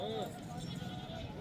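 Goats bleat at a busy livestock market, a wavering cry near the start and another toward the end, under constant crowd chatter and people talking.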